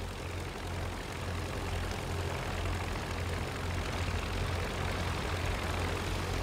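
A plane engine in the World War I flight game Rise of Flight gives a steady, low droning hum at moderate loudness, alone, with no talk.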